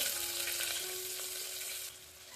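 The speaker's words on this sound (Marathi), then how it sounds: "आता सगळं व्यवस्थित छान भाजून परतून घ्यायचं कांदा सॉफ्ट व्हायचं पर्यंत भाजून घ्यायचं" Chopped onion frying in hot oil with cumin, mustard seeds and three cloves, a steady close sizzle that holds loud and even, then drops slightly near the end.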